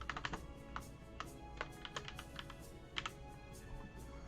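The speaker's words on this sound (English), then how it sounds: "When you're one-handed typing, that big shift is hard sometimes." One-handed typing on a computer keyboard during tabletop game prep: irregular, quiet clicking keystrokes in small clusters and single taps, close and soft over a faint steady room hum.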